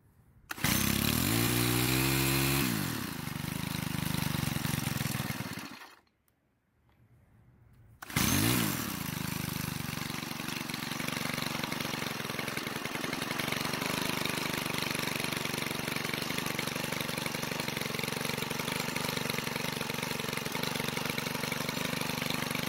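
Stihl string trimmer with a fuel-adjustment fault, its small two-stroke engine pulled and revving loud and close, cutting out briefly, then restarting and running steadily on choke.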